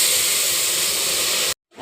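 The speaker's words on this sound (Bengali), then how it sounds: "এখন ডাল ঢেলে দেব।" Lentils poured into hot oil spiced with dried chilli, bay leaf, cumin, radhuni and fried ginger set off a loud, steady hiss and sizzle that cuts off abruptly near the end, then starts to rise again.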